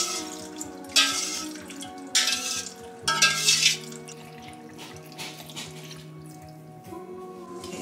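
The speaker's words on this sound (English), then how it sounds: "I'm just going to stir as we pour." Salt water pours and splashes in a steady stream with a few louder bursts, alongside faint clinks and stirring sounds in a bowl.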